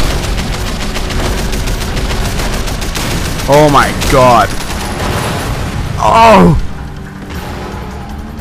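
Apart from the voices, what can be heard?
fireworks exploding in video game Sleeping Dogs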